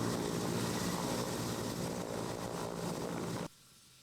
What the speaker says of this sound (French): Un hélicoptère Mi-171 de l'armée de l'air se pose à Djema dans la région de Nioro du Sahel.